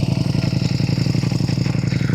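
A 2023 Ducati Panigale V4 S with an open clutch cover runs loud and close, a dense, rapid engine throb with dry clutch clatter and no talking.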